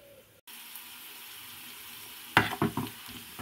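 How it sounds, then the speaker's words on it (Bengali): Onions, green chillies and garlic fry in a pan with a low, steady sizzle, then a short cluster of louder crackling stirs near the end. "আমি পেঁয়াজ, কাঁচামরিচ, রসুন হচ্ছে বেরেস্তা করে নিচ্ছি"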